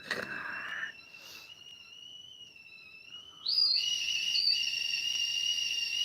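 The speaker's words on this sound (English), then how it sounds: "The sounds of a whistling kettle." A high, steady kettle whistle sounds with sustained tones that shift pitch partway through, then grow louder and shriller until the end.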